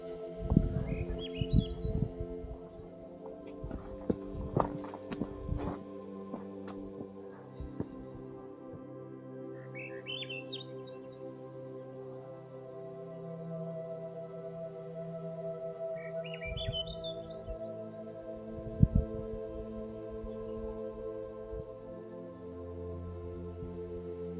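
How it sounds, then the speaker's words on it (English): Birds sing outdoors with echoing, rising chirped phrases repeating every several seconds, moderately distant over low steady background hum and occasional knocks. "Also here the birds singing behind us, their voice was echoing and it felt so good."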